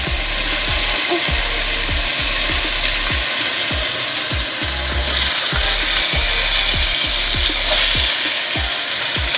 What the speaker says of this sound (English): We're gonna brown them on both sides.